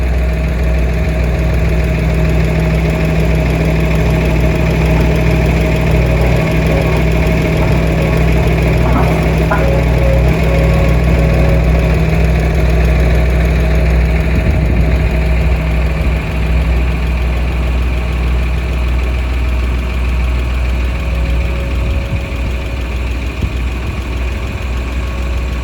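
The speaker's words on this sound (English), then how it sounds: "There's my neighbor there on the skid steer." A skid steer's engine runs steadily at a farm where round bales are being moved, a loud, continuous low rumble with a constant drone and vibration, close by, while people talk faintly.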